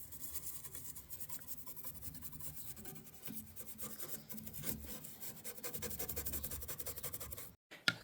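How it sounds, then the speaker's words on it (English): A wooden organ case being cleaned by hand gives a continuous close-up rasping rub of repeated strokes that intensify near the end, then stop abruptly before a final small knock. "I'm working on cleaning the organ right now."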